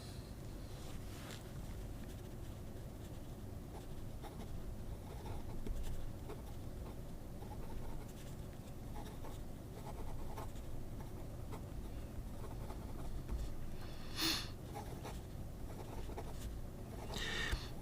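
A Pelikan fountain pen nib writing on textured Studio Dollarama paper, a faint continuous scratchy rasp from close by with a few brief louder scrapes, no talking.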